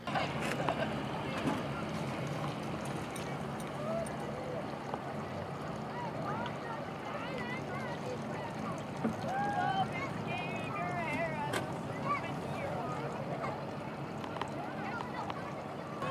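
A steady drone of motorboats, including safety boats for sailing races, on open harbor water with wind buffeting the microphone and faint, muffled voices in the background.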